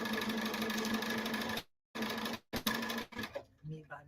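A Bernina sewing machine straight stitches a quilt with a steady, dense whir that stops abruptly, restarts briefly, and breaks into a few short bursts before falling quiet near the end.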